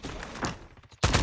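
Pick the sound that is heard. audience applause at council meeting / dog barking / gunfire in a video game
gunfire in a video game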